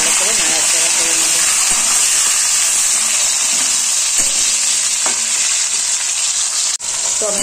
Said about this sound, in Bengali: এবার তেলের মধ্যে আমি ক্যাপসিকাম, টমেটো দিয়ে দেবো। ভালো করে নাড়াচাড়া করে নেব।